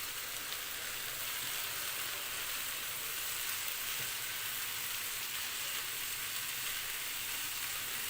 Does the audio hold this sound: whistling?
no